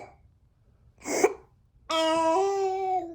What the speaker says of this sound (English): The painful cough of an 11-month-old baby in Ontario with a confirmed case of COVID-19